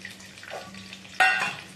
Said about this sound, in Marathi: आता ह्याच्यात आपण सर्वप्रथम कढीपत्ता टाकायचा आहे